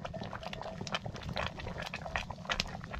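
Butter bubbles and spatters in a pot during morning butter-making in a mountain pasture, a dense close crackle of popping and sizzling bursts, steady and moderately quiet, with no talk over it.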